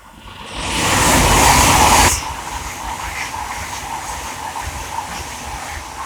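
A Class 800 train on the East Coast Main Line at Welham Green rushes past close by with a loud roaring hiss that swells and then drops abruptly, leaving a lower rumble as it carries on.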